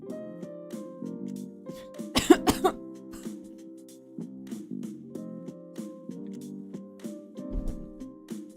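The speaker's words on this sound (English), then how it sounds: "that's why I just randomly coughed" A person coughing after choking on their own saliva, a quick cluster of sharp coughs close to the microphone, followed by quieter throat sounds and a soft rustle.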